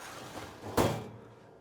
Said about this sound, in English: So I simply, again, open the door, take my tray into my free position.